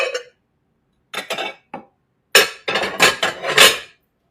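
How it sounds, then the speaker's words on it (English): Ceramic plates and dishes clinking and clattering as a plate is pulled from a stack in a home kitchen, a short clink followed by a pause, then a longer burst of rattling, knocking contact, close and fairly loud. "y'all hear me getting a pretty plate"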